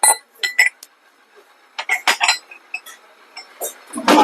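Steel biryani vessels and plates in a wholesale steel utensils shop in Vizag clink and clatter in short bright bursts, close by, with metallic rings between handling noises.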